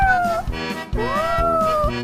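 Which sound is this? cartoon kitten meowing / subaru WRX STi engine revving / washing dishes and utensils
cartoon kitten meowing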